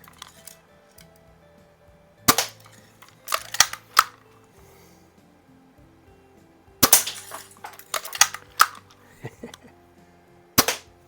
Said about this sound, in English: let's go ahead and take a couple shots with this one